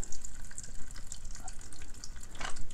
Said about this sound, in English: Hot water action coming down.